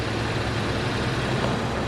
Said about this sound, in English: I can hear the pump.